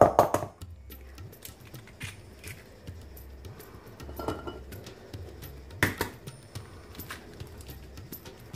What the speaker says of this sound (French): Je rajoute les œufs.